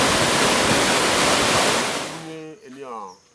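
The largest waterfall in Togo, deep in the forest, pours with a steady, loud, broad roar for about two seconds before it cuts off and a voice begins speaking.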